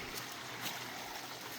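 A shallow stream flows over rocks at a trail crossing on the way to Lee Falls, a faint steady babble with no voices.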